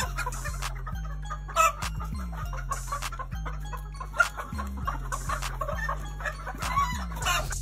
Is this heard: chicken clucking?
yes